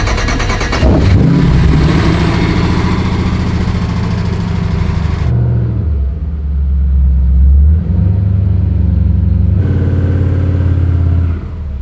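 A 400hp V8-swapped van revs hard during a burnout, its deep engine roar rising and falling through several surges with tire and exhaust noise, loud and close throughout.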